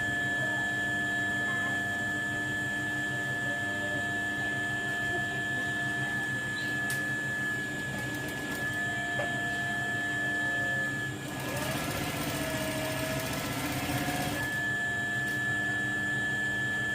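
A sewing machine hemming the folded side of a kali skirt, a steady close mechanical hum and whir running throughout with a brief noisier stretch partway through, no talk.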